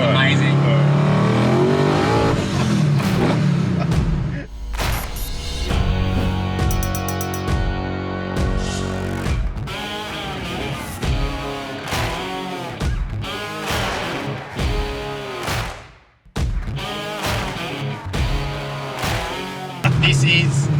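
1971 Nissan Skyline GTX with a VK56 V8 being revved, loud throttle blips rising and falling in repeated bursts, with people talking in between the revs.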